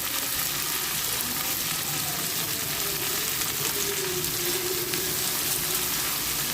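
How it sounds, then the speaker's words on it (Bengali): Vegetables sizzle steadily in a pan with a little salt, a continuous close frying hiss that holds even throughout. "এবার এই সবজিগুলো ভালো করে আমি ভেজে নেব।"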